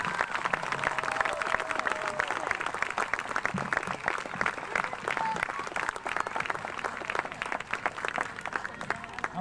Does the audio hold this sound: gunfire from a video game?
no